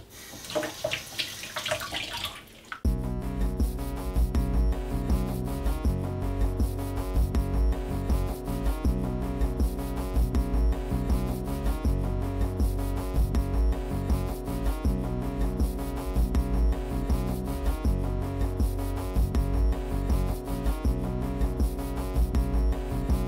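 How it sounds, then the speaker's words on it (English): Commodore C16 computer parts and keycaps are rubbed clean under running water, a continuous wet scrubbing and splashing sound that stays close and steady after a brief quieter start, no voices. "all parts done, except for the keycaps that we need to rub for a bit longer"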